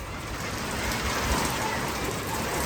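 Steady rain pours down in Karachi, a continuous dense hiss of drops hitting surfaces, close and fairly loud throughout.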